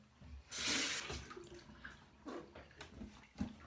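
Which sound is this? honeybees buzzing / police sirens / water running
water running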